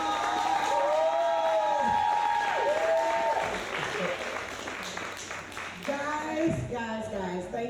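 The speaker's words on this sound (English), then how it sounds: "let's give these men a round of applause" Audience applause and cheering for the men on a bachelor-style stage show, a dense steady wash of clapping with whoops and shouting voices rising over it, and a host talking through the latter half.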